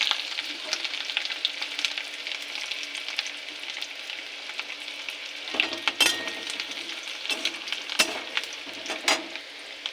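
Chopped ginger fries in hot oil in a wok, along with cumin tempering and chopped garlic, giving a steady close sizzle with stirring scrapes and occasional sharp crackles.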